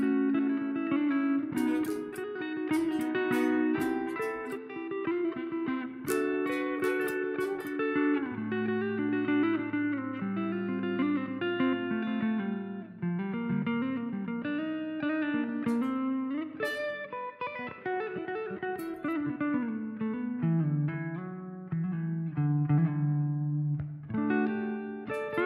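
Electric guitar run through effects plays chord shapes in a steady, sustained sequence, close and loud, with no talking.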